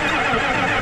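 A Ford 7.3 IDI diesel engine cranks with a jumper pack attached, making a loud, steady, grinding churn throughout.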